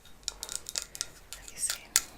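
Scissors snipping and clicking in a quiet room during an energy healing session, a series of short crisp metallic snips spaced irregularly, close and fairly soft, with no talk.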